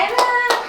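At a family birthday party, two sharp hand claps ring out close by, about a third of a second apart, over a sustained voice.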